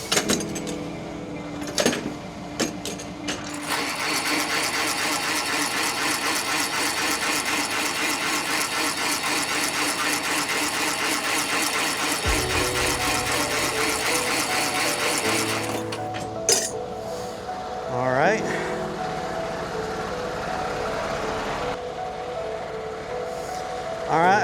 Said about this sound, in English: Then I'm going to put the landing gear up on this trailer.